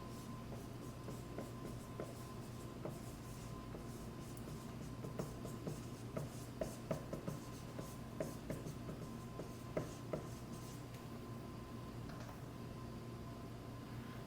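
Pen writing out a list of epithelial tissue categories, a continuous soft scratching with small tapping strokes over a steady low hum, close and quiet throughout.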